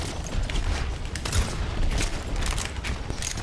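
Dense, continuous gunfire and clatter from the video game Overwatch fill the stretch, loud and busy with overlapping shots and mechanical effects.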